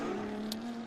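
A BMW E36 with a turbocharged M50 engine, run as a drift car at a championship event, holds a steady, rising engine tone for about a second, heard from a distance.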